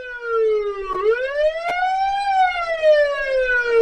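A police car siren wails loudly and close by, its pitch sweeping down then up and slowly falling again.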